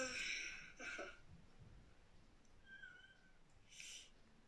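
A cat meows three times, in two quick calls near the start and one more near the end, quiet and indoors, with faint background hiss between.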